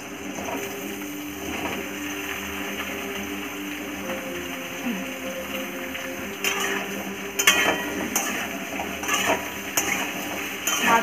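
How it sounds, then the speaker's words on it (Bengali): A metal spoon scrapes and clinks in a frying pan as onion, green chili, ash gourd and potato are stirred into oil left from frying fish, with a low steady sizzle underneath and louder clanks toward the end. "আর একবার নাড়াচাড়া করে নেব।"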